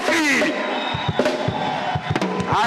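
A concert crowd in Nairobi yells and cheers loudly in ragged, overlapping bursts, with shouting voices and a few sharp claps rising over a dense, nearby crowd roar.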